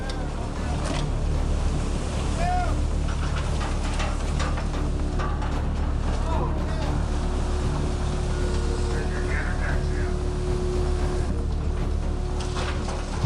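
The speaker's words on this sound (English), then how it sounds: "Only the howling wind cut through the deck, the roar of the engines like the wail of a dying industry." Wind roars across the deck of a king crab fishing boat alongside a steady, loud engine drone and surf, a continuous dense rumble with faint tonal hums and no speech.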